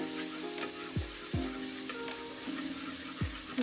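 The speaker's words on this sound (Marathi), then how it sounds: "आता अद्रक लसूण पेस्ट हे टाकून घेऊ आपण" Ginger garlic paste hits hot oil in a heated pot and sizzles steadily. A few sharp clicks or taps of a utensil on the vessel stand out over the soft, close frying, and no one speaks.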